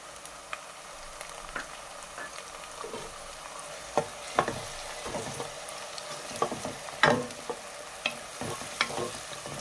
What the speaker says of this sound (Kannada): ಮೀಡಿಯಮ್ ಸೈಜ್ ಈರುಳ್ಳಿನ ಪೇಸ್ಟ್ ಮಾಡಿಕೊಂಡು ಈ ಥರ ಫ್ರೈ ಮಾಡ್ತಾ ಇದ್ದೀನಿ